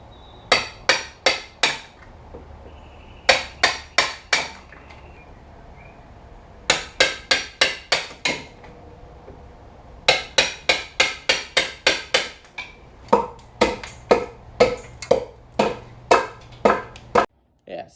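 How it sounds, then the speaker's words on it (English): Repeated sharp hammer strikes knocking out an old wooden mailbox post, coming in quick bursts of three to eight blows with brief pauses between, loud and close. "just like whack it out with a hammer and stuff"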